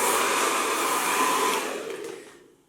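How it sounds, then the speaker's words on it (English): Hair dryer blowing on a fringe, a loud, close, steady rushing whoosh that holds for about two seconds and then winds down as it switches off. "I always dry my fringe forward because it just falls better"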